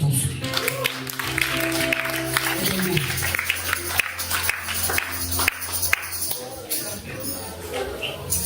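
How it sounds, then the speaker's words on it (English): A church congregation claps steadily in a dense, sustained wash of applause, with a low musical tone and some voices underneath. "Give the Lord a clap of"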